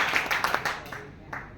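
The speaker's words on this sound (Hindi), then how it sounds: "एक बार इनके लिए जोरदार तालियां।" An audience at a hotel meeting claps, with a burst of individual claps that thins out and fades after about a second while a voice talks over it.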